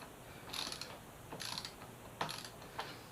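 A ratchet wrench loosening a fork bolt on a Yamaha FZ6R motorcycle front end during fork disassembly: four short bursts of quick metallic clicking, close and clear, with pauses between and no talking.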